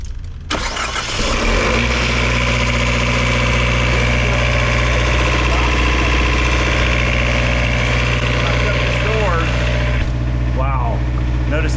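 A diesel generator aboard a 2023 custom Newell motor coach cranks, catches and settles into a steady, loud idle with a constant low hum, running alone close by with no talk.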